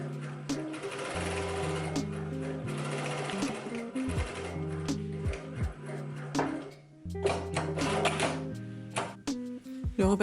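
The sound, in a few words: sewing machine stitching the front skirt pieces together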